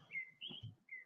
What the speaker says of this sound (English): We got birds chirping, singing songs in the middle of the night.